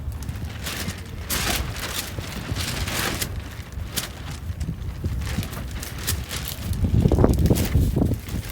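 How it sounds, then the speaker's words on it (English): Strong wind blows outdoors, buffeting steadily with gusty roaring surges and rustling, growing loudest near the end. "the wind is really whipping"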